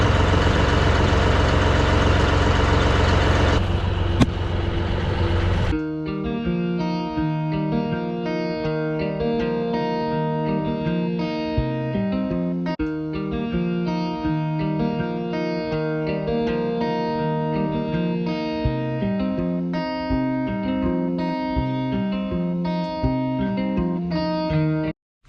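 A John Deere E12 rotary cutter runs behind a tractor, first as a loud broadband roar, then settling into a steady, droning mechanical hum with a regular pulsing beat that continues unbroken for over twenty seconds.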